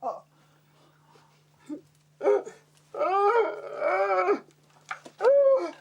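A dog growls and lets out drawn-out howling whines in several loud bursts between short quiet gaps, close by, with people talking around it in a household setting.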